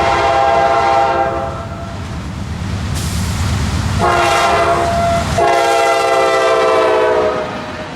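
A daily local freight train, a Winston to Sebring turn led by a GE C44-8 running backwards, rumbles past close by while its horn sounds in several loud sustained blasts over steady rail noise.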